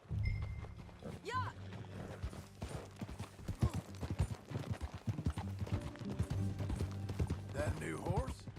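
In Red Dead Redemption 2, a horse's hooves clip-clop steadily at a walking pace. Voices talk over the rhythmic hoofbeats.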